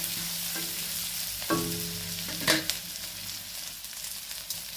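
A tomato softening in a pan while cooking a country-chicken curry, giving a steady broadband sizzle with a few soft stirring knocks, close and moderately loud, no voices.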